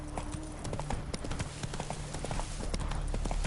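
Roach the horse trotting in The Witcher 3, rapid steady hoof clip-clops close and clear over a low ambient bed, with faint voice in the background.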